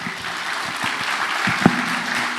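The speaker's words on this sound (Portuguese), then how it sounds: "Dê uma salva de palmas ao Senhor Jesus." A church congregation claps together in steady, dense applause at a family leadership seminar, loud and close, with a few sharper individual claps standing out.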